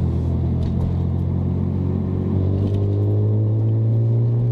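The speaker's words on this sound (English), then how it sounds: "Oh, you can hear this car a mile away." A BMW Z4 M Coupe engine rumbles low and loud, idling then building into a deeper, stronger drone toward the end, with no one speaking.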